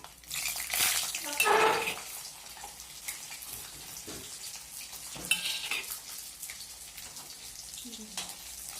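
Garlic frying in sesame oil in a pan for a tangy Andhra-style sorrel leaf relish, a soft sizzle with a louder burst early on and occasional faint clinks of a spoon against the pan.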